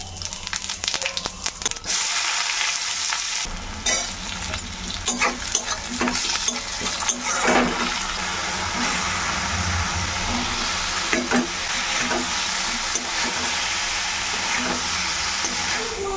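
Jackfruit curry cooking in a pan gives a steady, close sizzle and hiss throughout, broken by repeated scraping and stirring strokes of a spatula, with no talking.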